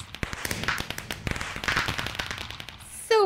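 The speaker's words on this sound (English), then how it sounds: "yay, fireworks." Minecraft fireworks from the Project Ozone modpack crackle and pop in dense rapid bursts like a string of firecrackers, loud and close, ending with a short rising whistle-like sound.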